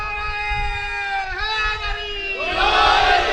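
At a Muharram majlis in an imambargah in Gojra, a sustained voice leads a religious slogan, then a large gathering answers with a loud, roaring chorus of shouted chant.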